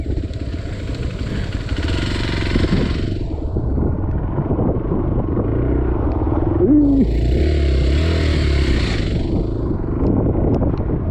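Motorcycle riding along a forest trail, its engine rumbling loud and close throughout with steady clatter and wind buffeting.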